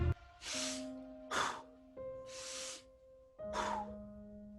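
Slow, deep breaths during a guided breathing exercise come as four drawn-out inhales and exhales, close and soft, over a faint steady background tone.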